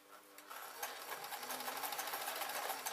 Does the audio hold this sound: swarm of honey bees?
no